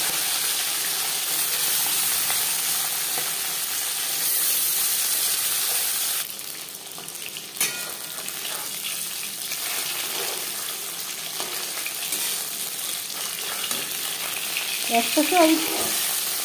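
Soft bele fish frying in hot oil in a kadai: a loud steady sizzle for the first several seconds, then a quieter crackle with a few utensil clinks, with brief speech.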